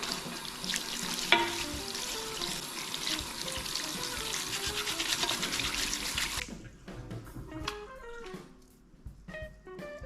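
A brush is rinsed under clear running water, a steady splashing hiss for about six seconds that then cuts off, leaving faint drips and light handling sounds.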